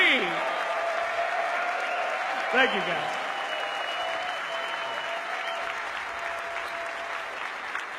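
Arena crowd at the Boston Major Dota 2 grand final applauding and cheering Team OG's championship win over Ad Finem, a continuous dense roar of clapping throughout, with a voice briefly speaking over it.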